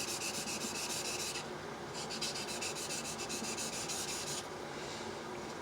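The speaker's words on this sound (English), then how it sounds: "doing a chisel, it's even more important to move around on the stone" A steel chisel sharpened on a Norton waterstone, with close, steady rubbing strokes in a back-and-forth rhythm, plus a brief pause midway and no talking.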